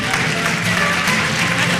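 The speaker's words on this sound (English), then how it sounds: "Keep clapping for them." Steady, dense applause from a large audience at a University of Lagos convocation ceremony, continuous clapping filling the hall without pause, close and fairly loud.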